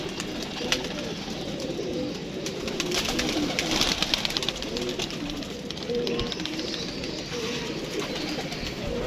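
Pigeons coo in low, rolling murmurs against a busy background of fluttering and scattered noise, continuous and fairly close.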